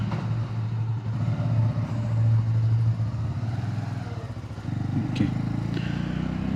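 Motorcycle setting off on a ride along the Mumbai–Goa highway, a steady loud engine drone that shifts pitch midway, with wind rush and a couple of light clunks.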